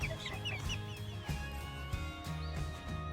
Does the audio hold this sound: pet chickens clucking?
yes